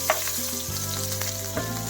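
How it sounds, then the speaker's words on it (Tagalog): Onions sautéing in a pan for sweet and sour fish, a close, continuous sizzle of hot oil with occasional stirring clicks, no talking. "Gigisa na tayo. Una natin ilalagay ang ating sibuyas."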